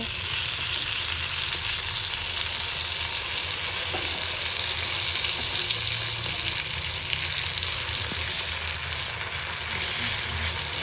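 Sliced eggplant sizzles steadily in hot oil in a pan, a dense, even crackle running unbroken with faint occasional stirring taps and no voices.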